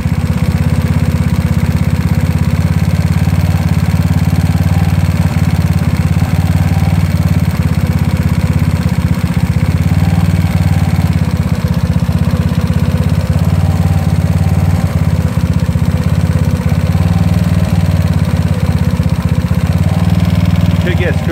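A GY6 scooter engine idles loudly and steadily during carburetor tuning, a constant close drone with slight unevenness, and a voice speaks over it.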